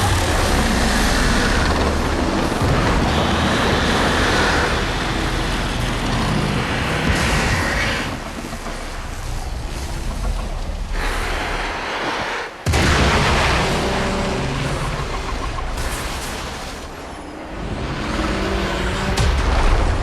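Explosions and heavy weapon fire in the mobile video game Warframe Mobile, a loud continuous barrage of booms and blasts with a dense rumbling low end and a brief drop in the middle.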